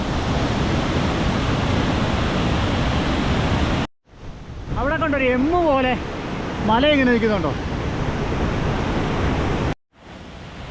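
A powerful mountain waterfall roars loudly and continuously, broken by two brief cuts, while someone talks over the rushing water.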